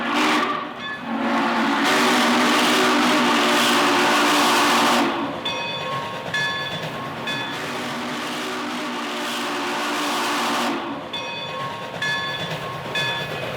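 A Märklin model Berkshire steam locomotive rumbles past with steady mechanical noise, sharp high squeals and tonal whines recurring, the loud roar holding throughout.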